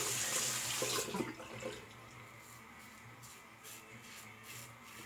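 Running tap water hisses loudly into a sink as an all-metal Fine Marvel three-piece safety razor is rinsed. The strong splash eases after about a second into a softer, steady trickle with faint rubbing.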